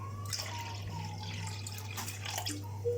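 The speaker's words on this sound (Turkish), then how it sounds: "şimdi suyumu dökeceğim" Water is poured while cooking, a soft liquid trickle and dripping over a steady low electrical hum, with no talk.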